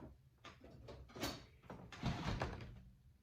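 Scissors trim the fabric seam edge of a sewn wallet with a few close, crisp cutting bursts spread across a short stretch, with no talking.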